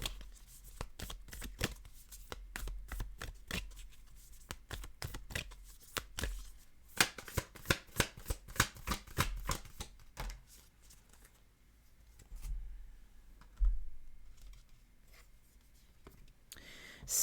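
Tarot cards are shuffled and drawn in quick, crisp riffling bursts, dense rapid flicks for the first ten seconds, then sparser single snaps and slides, close and fairly quiet.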